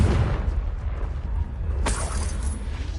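Confringo fire spell in Hogwarts Legacy, a deep rumbling blast with a sharp crackling flare partway through, loud and continuous over low combat noise.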